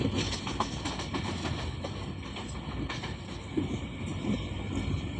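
Sir Syed Express rumbling along at speed while overtaking a container train, steady broadband rail roar with faint clickety-clack of wheels throughout, no talking.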